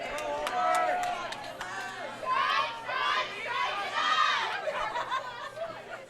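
A girls' team cheers at an Indiana high school bowling match: bursts of excited, high-pitched young voices rise and fall in a boisterous crowd, loudest in the middle stretch.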